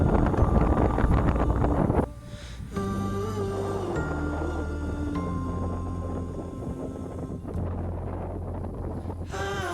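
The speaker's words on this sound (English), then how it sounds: "17 knots of wind blew and white caps were forming" Strong wind of about 17 knots buffets the microphone aboard a sailboat running with one reef in the genoa off a Greek cape amid whitecaps. A steady roar drops out briefly and then returns, with a low tonal hum underneath.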